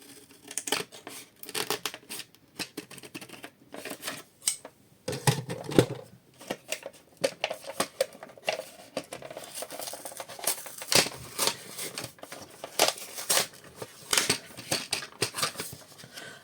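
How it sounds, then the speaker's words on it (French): Scissors cutting through plastic packaging to unbox an item, a long series of quick snips and crinkles, close and fairly quiet, coming in bursts with short pauses and no talk. "il faut que je coupe pour le déballer"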